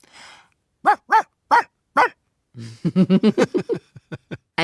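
A person imitates a dog, giving a few separate barks followed by a rapid string of yapping barks that taper off, close and clear.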